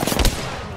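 Gunfire in the battle royale game Apex Legends, a dense burst of rapid shots in the first moments that fades into a rumbling tail, loud and close.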